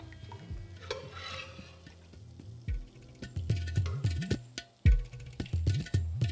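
Boiled mutton is stirred into masala in a pan for a Kashmiri mutton curry, with repeated close scraping and clattering strokes over a soft sizzle that grow louder and busier in the second half.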